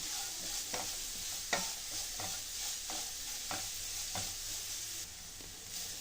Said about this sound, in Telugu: ఈ క్యారెట్ని కలుపుకుంటూ కొంచెం కుక్ చేసుకోవాలండి పచ్చివాసన పోయేంత వరకు